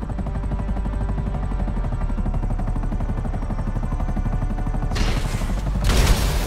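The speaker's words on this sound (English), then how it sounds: "They're gonna get me with explosive rounds" Explosive rounds pound away in a video game firefight, a loud, unbroken stream of rapid gunfire with booming impacts that swell heavier near the end. No voices.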